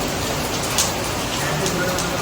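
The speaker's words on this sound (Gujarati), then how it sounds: "બધા વરસાદ આવે છે જો અમદાવાદના નિકોલમાં" Rain pours down in Nikol, Ahmedabad, a steady, dense patter and hiss that holds an even level throughout with no break.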